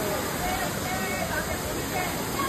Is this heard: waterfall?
yes